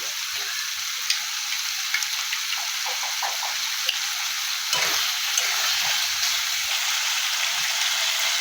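Curdled yogurt goes into a pan of frying paneer and cauliflower, setting off a loud, continuous sizzle with crackling pops and a few stirring clatters, heard alone and close up.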